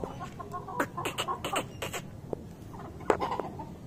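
A hen clucks in short, quiet bursts of a few clipped calls, then pauses before a couple more sharp clucks, heard fairly close against a soft background.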